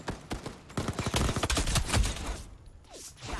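Rapid bursts of gunfire in the shooter Veiled Experts, with Desert Eagle pistol shots among them, crack out in a dense volley of overlapping reports that thin out toward the end.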